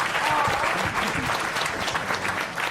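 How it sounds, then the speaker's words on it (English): Live comedy show audience breaks into loud, dense applause and clapping that holds steady for a few seconds. "give yourselves a round of applause."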